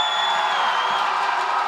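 An esports tournament crowd at IPL5 cheers and roars steadily, a dense, loud wash of voices and whoops in a large hall.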